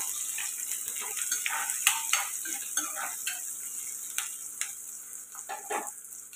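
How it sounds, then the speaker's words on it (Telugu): Two green chilies frying in a pan, a steady hiss of hot oil broken by sharp pops and crackles, close and moderately loud. "అలాగే 2 పచ్చిమిర్చి, ఇవి ఫ్రై అవ్వాలి."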